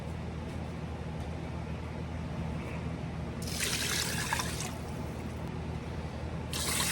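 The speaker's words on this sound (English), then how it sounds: "So I'm gonna put a decent size scoop of better than bouillon in here and 4 cups of water." Water pours into a pot holding a scoop of Better Than Bouillon base, a bright splashing rush in two bursts, the second starting near the end, over a steady low background hum.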